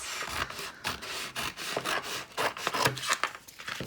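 Scissors or a blade trimming a freshly unrolled length of vinyl transfer tape, giving continuous close rasping and rubbing cuts with rhythmic strokes throughout and no speech.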